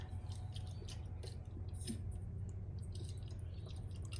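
Faint drips of coolant leaking from a BMW 335i with an N54 engine land one after another over a low, steady mechanical hum, sparse and irregular, with no voices.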